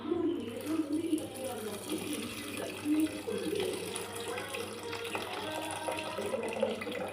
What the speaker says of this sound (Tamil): அதனால் இப்போ நான் இந்த பருப்பு தண்ணி இருக்குதுல்ல, அதை மட்டும் கொஞ்சம் ஊற்றி காய வேக வைக்க போகிறேன்.